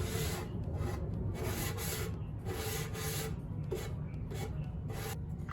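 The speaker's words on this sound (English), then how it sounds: "We're gonna go in and do just a scuff sand." Steady, close scuff sanding of a wooden chair by hand, a continuous dry rasping rub in repeated back-and-forth strokes at an even rhythm, with no talking.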